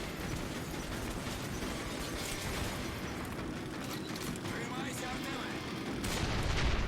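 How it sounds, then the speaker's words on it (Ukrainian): Rapid bursts of gunfire in Metro: Last Light crackle over dense, continuous background noise, with mechanical clicks and rattles mixed in throughout. "Оце по нам стріляють."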